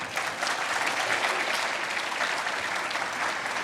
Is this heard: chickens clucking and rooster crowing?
no